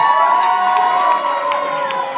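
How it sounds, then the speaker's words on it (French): A crowd at a Gad Elmaleh comedy show in Strasbourg reacts with cheering and shouts as a cook named Ned is called on stage, a brief lively burst of voices with a few sharp claps. "On peut l'applaudir."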